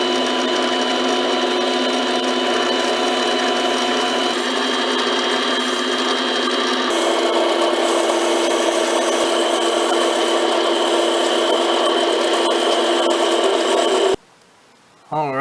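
Wood lathe spinning a large wooden top while a tungsten carbide turning tool cuts decorative grooves, a steady scraping, humming whir that runs continuously before cutting off abruptly near the end.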